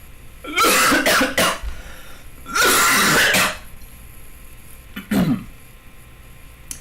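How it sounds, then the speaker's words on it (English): Loud, harsh coughs right up against the microphone, two heavy bursts followed by a shorter throat-clearing cough, with quiet pauses between. "Just fucking coughing. Right into the mic."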